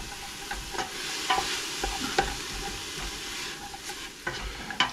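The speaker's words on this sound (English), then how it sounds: "Now we'll mix that around and try to scrape up the bits off the bottom of the pan as that's cooking." Garlic and onions are stirred and scraped around a pan, giving soft sizzling under intermittent spoon scrapes and light knocks, close and moderately quiet.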